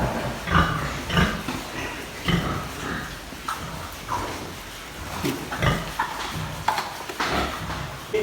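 Young weaned piglets in a weaning pen on a pig farm, with scattered grunts and snuffling squeals rising in short bursts among shuffling noise, fairly close and moderately loud throughout.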